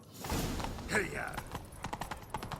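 Horse hooves clip-clop at a gallop in The Witcher 3: Wild Hunt during a chase, a steady close rhythm mixed with game voices and effects.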